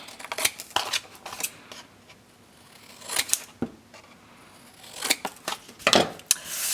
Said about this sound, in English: you just want to trim the corners off, leaving about 1/8 of an inch from the corner of that chipboard